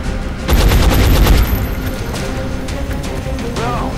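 A weapon shot fired in X-Com: Enemy Unknown, one heavy booming blast with a rumbling tail, loud and close, followed by lingering game ambience.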